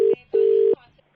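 Telephone keypad dialing tones: two clean electronic beeps, one short and one longer, close and loud with no talk.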